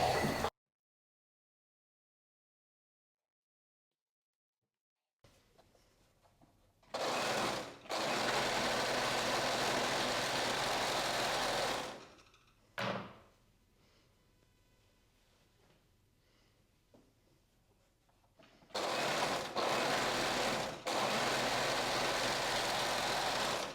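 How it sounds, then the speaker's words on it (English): An overlocker serges the seam allowance of a button-up blouse with a big collar, running in two long loud bursts, one brief stop between them, and a final burst after a quieter stretch of low mechanical rumble. "and then we're going to overlock it."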